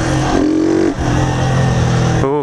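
A car revs hard in first gear, the engine note dropping sharply as the throttle lifts for a quick 'quebrão' shift into second, then climbing again, loud and close.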